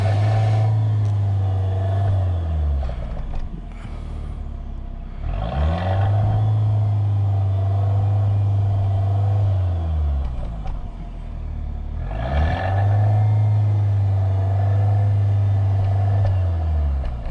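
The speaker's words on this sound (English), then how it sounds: "So let's take a listen to the exhaust now." A 2021 MG HS Trophy SUV's dual exhaust revs three times in close, loud bursts, each swelling and dropping back over a steady idle rumble, with no talking.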